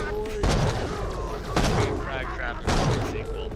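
Three booming sniper shots from a Jakobs sniper rifle in the Borderlands video game, spaced about a second apart under a steady game soundtrack while a player talks.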